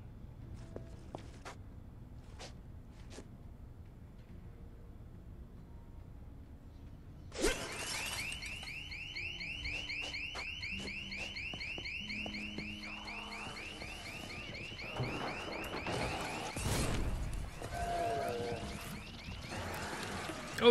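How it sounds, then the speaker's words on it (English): An alarm in the video game Dead Island 2 starts abruptly partway through and keeps sounding as a loud, steady, repeating electronic tone over footsteps, impacts and other game action. "Oh, there's an alarm in there."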